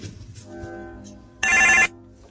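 A mobile phone rings once in a short, loud burst of ringtone that rises sharply over a quiet background, lasting about half a second before stopping.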